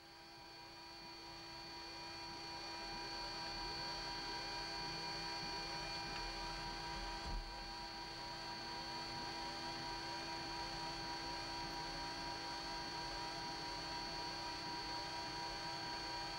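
The number 2 jet engine of a Ryanair BAC 1-11 airliner spools up, heard from inside the cockpit: a steady whine with sharp tonal lines swells over the first few seconds, then holds at a constant droning level.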